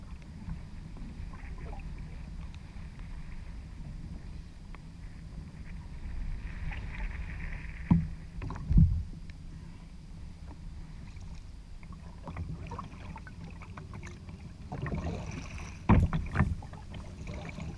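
A fishing kayak is paddled on the Oregon ocean, with low water sloshing and wind rumble throughout and a few soft paddle splashes and knocks standing out.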